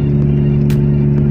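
Suzuki Aerio car with a loud aftermarket exhaust overtaking on a toll road, a steady engine rumble with a brief rushing swell midway as it passes close by.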